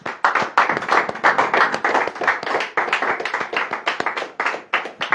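A church congregation claps together during a worship service in Le Mans, with many hands striking fast and loud in a steady rhythm that keeps going unbroken throughout.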